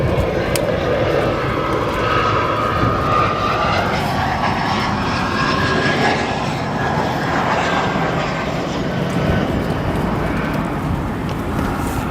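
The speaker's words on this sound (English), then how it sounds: "Here's our head-on shot of the Japan Airlines 787" A Japan Airlines Boeing 787 jet at O'Hare airport produces a loud, continuous engine roar and rushing wash that holds steady throughout.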